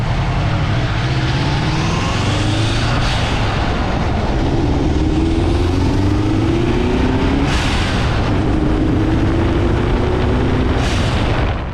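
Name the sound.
Subaru Impreza engine revving with K&N cold air intake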